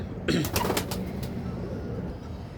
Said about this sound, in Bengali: এই যে পায়রাগুলো সব অনেক পায়রা আছে ভেতরের খোপে খোপে রয়েছে